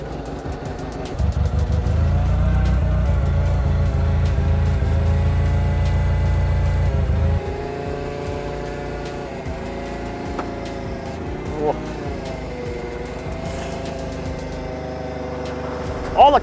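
A 4WD car engine runs loudly while the vehicle creeps forward slowly, a heavy low rumble that drops to a steadier, quieter hum midway, with people talking over it and a short knock near the end.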